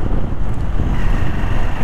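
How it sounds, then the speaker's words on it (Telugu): Strong gusting wind buffets an outdoor microphone with a loud, continuous low rumble and roar, no other sounds standing out. "అమ్మ గాలి వేస్తుంది, గాలి తోసేసేటట్టు ఉంది"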